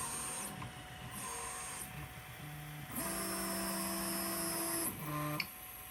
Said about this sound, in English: It's going to do a mesh bed leveling calibration.